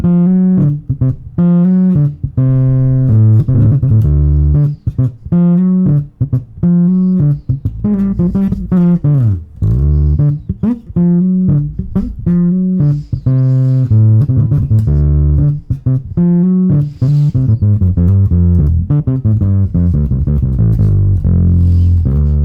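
A Joe Dart signature bass guitar on the neck pickup plays a busy, punchy funk line, with fat, round low notes plucked in quick rhythmic bursts, loud and solo without talk.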